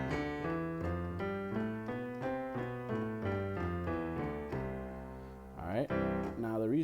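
A piano major scale played with both hands together, even stepwise notes climbing and then descending in a steady rhythm, soft and close, ending with a brief louder chord-like swell.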